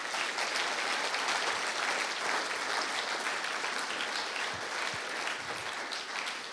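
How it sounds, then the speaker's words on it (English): Conference audience at the YAPC::Europe 2014 closing session applauds a sponsor with sustained, dense clapping that holds steady and loud for the whole stretch, with no talking over it. "I want a very big clap for them."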